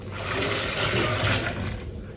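Water pours into a blender jar of cucumber and lime for agua fresca, a loud, full, continuous splashing rush that lasts about two seconds.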